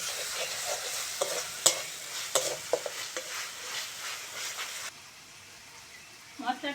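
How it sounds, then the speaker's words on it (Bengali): Spice masala for egg curry sizzles and is stirred in a pan, with scraping strokes and clinks of a spoon against the pan over a steady frying hiss that cuts off abruptly, followed by brief quiet and a short voice. "মশলাটা ভালো করে কষে নিয়েছি,"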